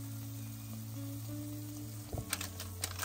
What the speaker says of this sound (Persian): با قاشق ریختم داره سرخ میشه